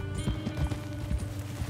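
Horse hooves galloping in Red Dead Redemption 2, a steady rhythmic clip-clop of a ridden horse running continuously at close range over low game ambience.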